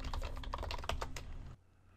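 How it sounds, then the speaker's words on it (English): Rapid gibberish typing on a computer keyboard while composing an email, a close, busy run of clicking keystrokes that stops abruptly before the end, leaving quiet room tone. "Disregard my gibberish typing for this test."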